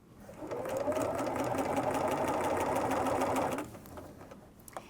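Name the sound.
sewing machine topstitching with a straight stitch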